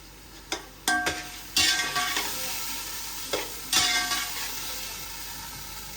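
Chopped tomatoes and green chillies hit hot oil for chana pulao, giving several sharp bursts of sizzling as pieces drop in, each fading into a steady frying hiss, with stirring clatter between.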